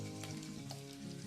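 Chopped onion and cumin seeds sautéing in hot oil in a village kitchen for spinach chutney, giving a steady close sizzle with faint stirring scrapes and no talking.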